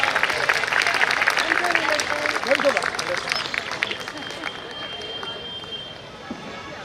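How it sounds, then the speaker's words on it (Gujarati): An audience at a long-service awards ceremony claps for an award recipient coming onto the stage, with broad applause mixed with crowd chatter and a voice talking over it, easing off toward the end. "નિલેશભાઈને ભારે ભરખમ તાળીઓથી વધાવીએ"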